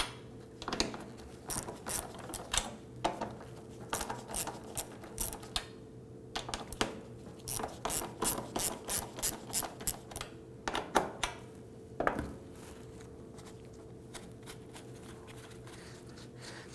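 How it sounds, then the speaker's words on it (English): A 1/4-inch ratchet with an 8mm socket turning bolts during fuel tank work on a 2005-2009 Subaru Legacy 2.5L, quick bursts of close rhythmic clicking separated by short pauses. "Now we're using an 8mm socket as well as our 1/4" ratchet"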